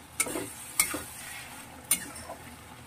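Spice paste for a spicy mourola fish chorchori being stirred and cooked down in a pan, a soft steady sizzle with a few sharp clinks of a utensil against the pan.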